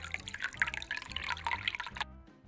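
Water poured into a glass holding a little ginger concentrate, a close trickling and splashing stream with bubbly gurgles that stops abruptly near the end.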